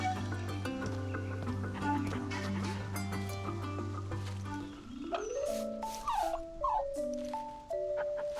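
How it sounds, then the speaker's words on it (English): Game dog whimpering and yipping in a video game, rising and falling whines and short yips over layered background music, loud and close. "Oh, look at the cute doggy!"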